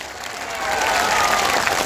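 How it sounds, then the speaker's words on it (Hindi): Loud, sustained crowd applause at a Jan Suraaj founding convention in Patna, building in intensity after the first half-second and continuing as a dense wash of clapping with no speech. "जोर से बजाइए ताली।"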